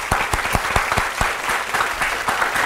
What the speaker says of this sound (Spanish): Un aplauso bien fuerte de bienvenida para ellos.